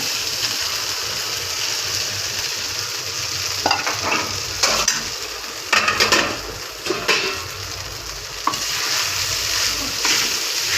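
Sabudana khichdi fries in a pan under continuous stirring, a steady close sizzle broken by repeated scraping and clattering of the spoon against the pan, growing busier midway through.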